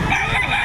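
Rooster crowing at a busy chicken market in Batangas, a short, strained crow standing out against a dense background of crowd murmur and other fowl.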